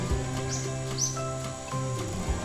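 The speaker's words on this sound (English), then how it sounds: "to hear the birds chirping and breathe the fresh air" Birds chirp near a Hamilton waterfall, with a couple of short, bright calls rising above a steady wash of rushing water and low droning background noise.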